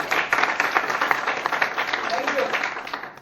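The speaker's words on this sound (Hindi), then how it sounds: "बताइए सर के लिए एक बार जोरदार तालियां" Audience applause during a motivational seminar, a brisk burst of many hands clapping close and fairly loud, holding steady for a few seconds.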